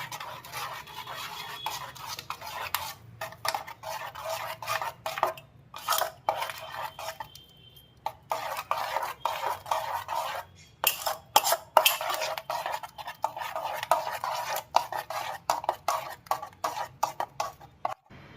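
Red food colour being mixed into gathiya chutney, rapid repeated scraping and clinking of a spoon against a bowl, close and busy with brief pauses.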